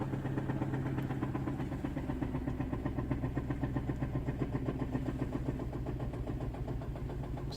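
A 2007 Saturn Ion engine running shortly after a cold start, a steady rhythmic idle with a faint pulsing chug, moderately close and alone without voices.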